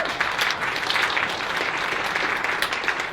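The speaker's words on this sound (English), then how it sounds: "So give them a round of applause" A concert audience at a Florence Price birthday tribute claps for West Wind School performing arts students, sustained full applause at a steady, fairly loud level without speech.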